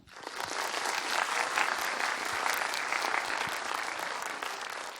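An audience at the 2016 Incheon high school debate competition claps for the eight finalist teams, a broad, even wash of applause that swells slightly and holds steady, moderately distant.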